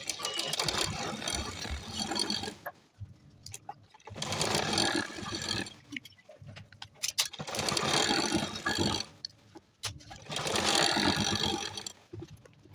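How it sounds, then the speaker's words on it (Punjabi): Sewing machine stitching a seam on an old fabric hair band, running in four steady bursts of a few seconds each with short pauses between, close and fairly loud, no talking. "ਇਸ ਤਰੀਕੇ ਨਾਲ ਆਪਾਂ ਸਲਾਈ ਲਾ ਲਵਾਂਗੇ"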